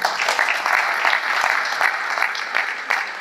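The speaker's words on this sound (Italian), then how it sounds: "Io vi invito ad accogliere con un bel applauso" Steady applause from a conference audience, dense clapping filling the whole stretch without pause.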